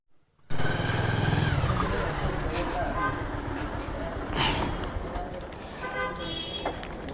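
A motorcycle rides through city traffic on the way to Kamalapur, its engine droning loudly and steadily while car and bike horns toot nearby and in the distance. Someone talks over the road noise.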